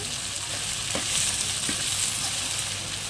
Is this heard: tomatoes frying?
yes